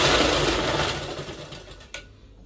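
A sewing machine runs in a steady, fast whir as it stitches a new saree cover onto an old quilted godhadi, then stops abruptly with a small click near the end, close and alone.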